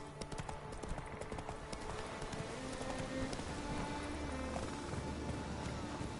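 Hooves of Roach, the horse in The Witcher game, clip-clop in a steady galloping rhythm, close and fairly loud over a soft wash of rain, with a faint snort or whinny.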